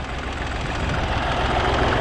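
A tractor engine running steadily on a farm, a low rumbling knock with even mechanical vibration, close and constant throughout.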